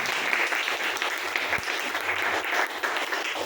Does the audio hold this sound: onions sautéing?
no